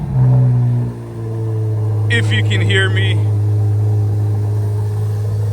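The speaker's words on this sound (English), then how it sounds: "Very loud exhaust." A Chevrolet Z06 sports car engine roars loudly at first, then settles into a deep, rumbling idle with a throaty, very loud exhaust note while a person speaks briefly over it.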